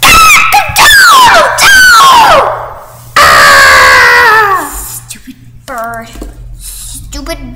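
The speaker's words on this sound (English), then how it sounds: "Oh my gosh, what was that? Someone screaming?" Shrill, wavering screams rise and fall loudly, then break off into a brief silence before more high-pitched shrieking and whimpering cries follow.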